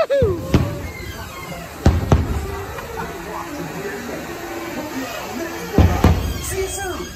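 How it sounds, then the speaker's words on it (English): Enchantment fireworks at Magic Kingdom after park closing, with a few sharp booms spread across the clip in an outdoor park. Crowd murmur and a steady hiss run underneath. "The fireworks for the Enchantment are going off"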